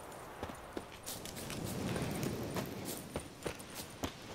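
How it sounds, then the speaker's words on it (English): Horse hooves clip-clop in The Witcher 3 video game, a string of distinct, fairly close hoof strikes in an uneven walking rhythm over a soft, noisy background. "Oi, clumsy horse."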